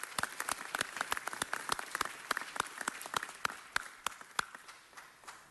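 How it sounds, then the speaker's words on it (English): Applause from a crowd at a Nowruz celebration in LA City Hall, a crisp, scattered clapping heard from a moderate distance that gradually thins out toward the end. "May we give them a big round of applause"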